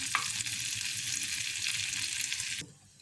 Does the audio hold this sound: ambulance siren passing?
no